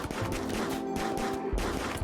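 Video game gunfire in a muffalo-hunting game, with bursts of shots and a pistol among the weapons, sounding as dense clattering volleys right up close and loud across the whole stretch.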